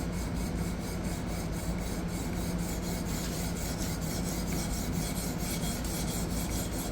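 A D2 steel knife blade being sharpened on a fixed-angle sharpener, a continuous close raspy scraping with a quick regular back-and-forth stroke rhythm, heard alone.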